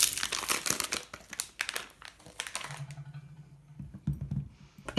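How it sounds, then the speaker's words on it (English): A bar of Zote laundry soap is unwrapped by hand: loud, close crinkling and tearing of the wrapper in dense bursts, easing into softer rustles and a low hum, then a few final crackles. "First, unwrap the soap."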